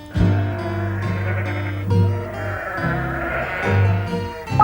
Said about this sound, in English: 3 of Alf's sheep climbing over the wall.